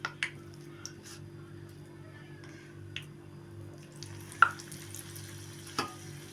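Radish pakoda batter dropped into hot oil, giving a faint, steady low sizzle punctuated by a few soft sharp pops and taps, with no voices.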